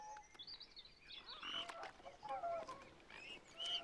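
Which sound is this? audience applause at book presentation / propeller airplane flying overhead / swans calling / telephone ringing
swans calling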